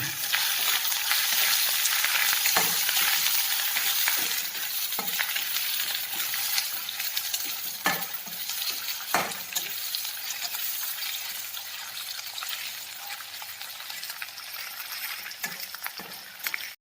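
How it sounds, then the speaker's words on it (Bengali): Pigeon meat with chopped onions fries in a pan while being stirred, a continuous soft sizzle broken by repeated scraping strokes and occasional light clinks. "এগুলিকে আমি ভালোভাবে নেড়ে কষিয়ে নিলাম। আর আমি কিছু পেঁয়াজ কুচি করে এগুলিকে দিয়ে দিলাম।"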